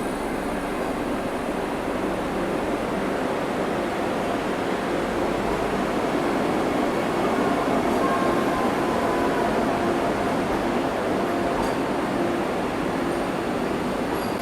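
A Vande Bharat train pulls out of a station, a broad steady rumble and rushing wash that swells slightly midway and then holds, heard from nearby with no talking.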